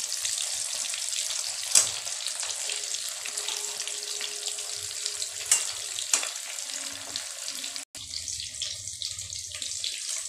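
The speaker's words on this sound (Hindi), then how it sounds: "अभी इसको पलट पलट के थोड़ा सा ब्राउन होते तक फ्राई करेंगे" Jimikand (suran) pieces fry until brown while being turned over. A steady, hissing sizzle runs throughout, with a few sharp clicks and one brief break near the end.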